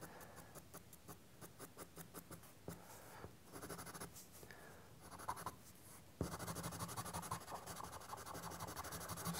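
Pastel pencil pressed hard against paper while shading a portrait, giving close, steady scratchy strokes in quick repeated bursts that grow denser and louder toward the end.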